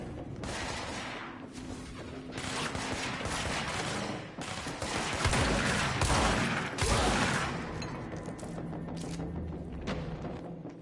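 Gunfire in the video game Control, heard as loud rapid volleys and bursts of shots with heavy thumps, coming in waves across the clip.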